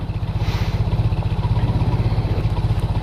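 A small engine started with the choke on runs close by with a fast, even putter and steady low thump throughout, loud and with no talk over it.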